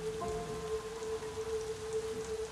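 Steady rain falling in a film trailer, a continuous close hiss of drops on surfaces with a faint sustained tone running underneath, no voices.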